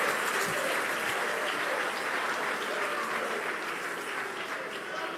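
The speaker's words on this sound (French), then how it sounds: "Acclame pour toi-même" A church congregation at a Hanukkah 2025 prophetic evening service bursts into loud, sustained applause, a thick wall of clapping with cheering voices that holds steady and eases off slightly toward the end.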